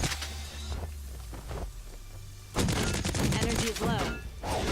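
Gunfire aimed at an enemy in the Meltdown shooter game, quick bursts of sharp shots rattling close and loud, with a voice faintly present.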